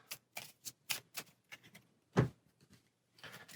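Board game cards being shuffled by hand, a series of short crisp riffling bursts and taps with brief gaps, fairly close and quiet, plus one louder thump midway.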